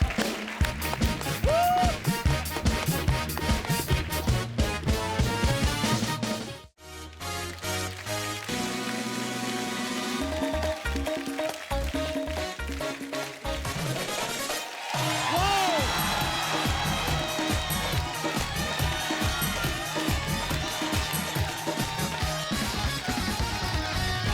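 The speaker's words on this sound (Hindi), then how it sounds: "एक बार अर्चना जी के लिए जोरदार तालियां हो जाए।" Studio audience on a comedy talk show claps and cheers in a loud, sustained burst, with a brief drop midway before the applause swells again; music plays along beneath it.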